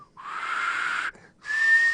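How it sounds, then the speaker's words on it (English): Two sustained whistled tones, the first rising slightly and the second steady and higher, separated by a short gap. "That's whistling."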